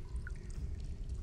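Water pouring in the game Among The Sleep, a soft, steady trickling stream that is faint and continuous for a moment, with no voices.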